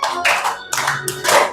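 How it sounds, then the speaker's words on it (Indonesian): Children in a classroom clap along while singing a patriotic song, with loud bursts of clapping and voices alternating close up in a lively, uneven rhythm. "Boleh sambil tepuk tangan."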